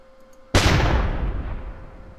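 Rocket jump explosion in the video game Dungeons of Dredmor: one sudden, loud blast with a booming low end that decays over about two seconds.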